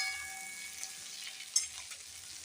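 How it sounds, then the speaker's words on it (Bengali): Salted potato cubes fry in oil in a wok, a quiet, even sizzle with a couple of soft stirring scrapes. "লবণ দিয়ে আমি ভালোভাবে লাল করে ভেজে নিচ্ছি আলুগুলো।"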